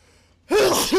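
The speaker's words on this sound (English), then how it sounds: "Sneezed all over myself." A loud, close sneeze bursts out after a quiet moment: a sharp breathy explosion with a second quick catch right after.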